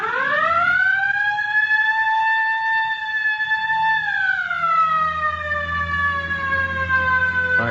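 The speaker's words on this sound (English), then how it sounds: "All right, hit the siren." A loud police siren wails close by in one long rising-and-falling sweep, with an engine rumbling underneath.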